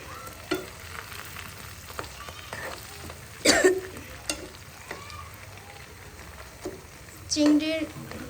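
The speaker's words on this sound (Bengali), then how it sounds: "তেলটা ভালো করে গরম করে চিংড়িগুলো ফ্রাই করে নিচ্ছি" Shrimp fry in hot oil in a pan with a steady crackling sizzle, punctuated by louder bursts as they are stirred and turned, while a person talks intermittently nearby.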